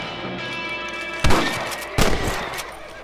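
Two close, heavy gunshots ring out in the Red Dead Redemption video game during a rabbit hunt, each a loud boom that fades into a rumbling tail over steady ambient background noise.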